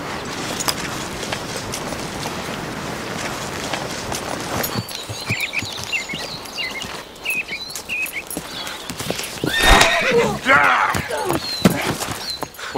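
Horse in a Western setting, hooves clip-clopping then a whinny near the end, mixed with bird chirps and other outdoor sound, with a busy background throughout.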